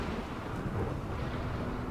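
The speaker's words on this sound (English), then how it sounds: "Rainy thunderstorm." Rainy thunderstorm in the video game Rimworld, a steady low rumble of thunder blended with dense rain hiss, continuous and fairly quiet, with no voices over it.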